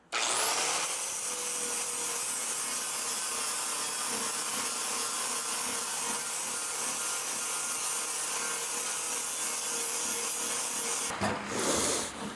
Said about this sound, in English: Now let's take our grinder, smooth out that donut looking thing, and we're gonna go ahead and hit these others.